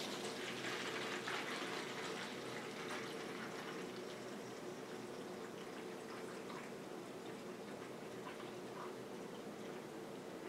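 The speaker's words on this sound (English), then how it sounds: "you can just simply pour it right back into your bottle." Filtered DTG pretreat liquid being poured back into its bottle, a steady, quiet, continuous liquid pour with a soft trickling wash and no talking.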